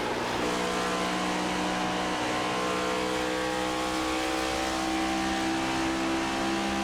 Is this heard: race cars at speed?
yes